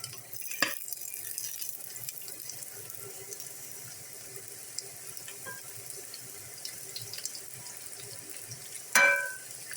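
French fries spread into hot cooking oil in a Tanzanian street-food pan give a steady hiss and crackle, close and continuous, with a brief clatter near the end.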